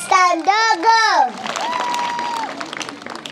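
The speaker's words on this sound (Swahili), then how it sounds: "Wapi makofi ya pasta ndogo?" Someone speaks loudly at first, then an audience breaks into steady applause and crowd noise for the young performer playing a little pastor at a Montessori teacher-training graduation.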